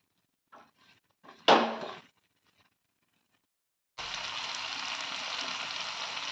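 Spice paste for a no-onion, no-garlic chana masala sizzles steadily in hot oil in a pan, a loud continuous frying hiss after a few brief clatters and a short louder scrape.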